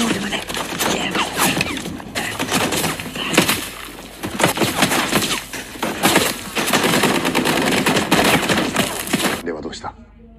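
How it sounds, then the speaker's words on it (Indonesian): Rapid automatic gunfire and scattered shots rattle through a night battle in a war film, dense overlapping bursts that keep going almost without pause before cutting off abruptly. "dari kegelapan malam, peluru melayang menarget mereka"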